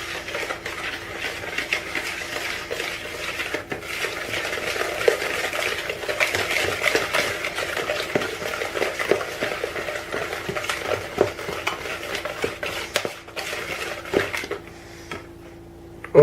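Flour being mixed into cookie dough in a bowl, a continuous rough scraping and stirring with soft utensil knocks against the bowl, close and steady before trailing off near the end.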